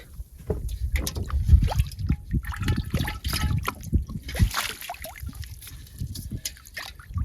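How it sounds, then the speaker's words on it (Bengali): Freshly caught fish being rinsed in water at a Sundarban riverside at night, with trickling, dribbling water and irregular splashes close by, continuous throughout and no talking. "মাছগুলো ধুয়ে ফেলি কি? হ্যাঁ সুন্দর করে ধুয়ে নাও।"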